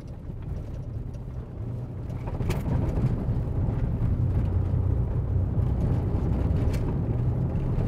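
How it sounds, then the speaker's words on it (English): Truck interior road noise crossing a noisy bridge: a deep, steady rumble that swells louder partway through and continues with faint knocks, no talk. "This is the noisy bridge."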